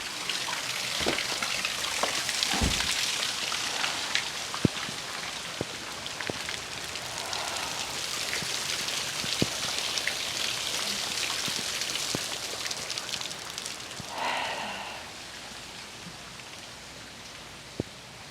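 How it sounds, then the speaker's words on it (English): Steady rain falls outdoors, a dense even hiss of drops striking surfaces with scattered louder nearby drips and taps, easing off a little toward the end with no talking. "we are going to go outside and get caught in the rain"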